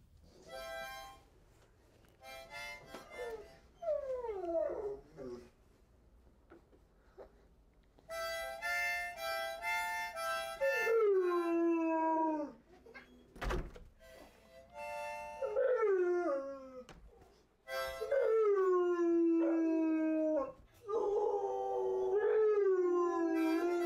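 A dog howls and yips in long rising and falling wails alongside a harmonica's reedy tones, the two trading phrases loudly and close by over about twenty seconds with brief pauses.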